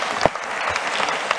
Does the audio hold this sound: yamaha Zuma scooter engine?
no